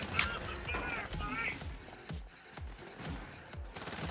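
Rapid gunfire from a player's weapons in Borderlands 3 during a raid boss fight against the Traunt, with sharp repeated shots and impacts mixed with game sounds and a talking voice over the top.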